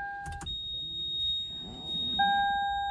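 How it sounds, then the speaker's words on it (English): A steady electronic warning chime in a 2007–2011 Toyota Camry Hybrid with an ABS fault rings in a continuous tone, briefly dropping out and then returning, with faint mechanical noise underneath. "That ringing sound just stays on."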